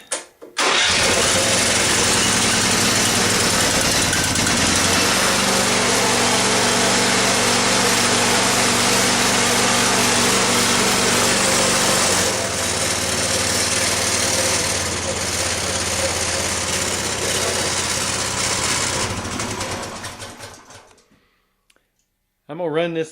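Honda clone engine on a 1977 Sears 14/6 garden tractor starts up and runs loud and close for about twenty seconds. It settles into a steady idle partway through, then dies away into quiet.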